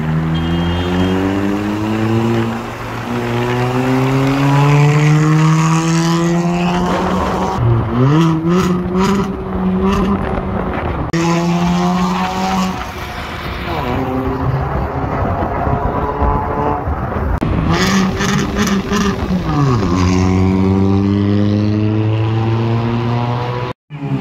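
A Hyundai Verna fitted with a loud aftermarket exhaust accelerates hard in a drag race, engine revs climbing and dropping through several gear shifts, loud and close, with no talking.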